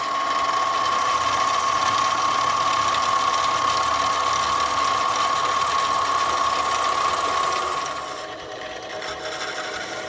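A Harbor Freight mini lathe runs steadily while machining a small washer, giving a continuous loud motor whine with a sustained tone that eases slightly near the end, with no talking.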